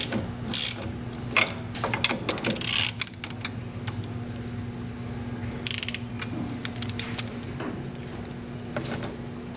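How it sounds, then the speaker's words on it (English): A wrench ratchets in short clicking bursts while the lower lock nut is tightened on the rear shock of a BMW E90. A steady mechanical hum runs underneath, and there is no speech. "I'm going to go ahead and put this lower lock nut back on."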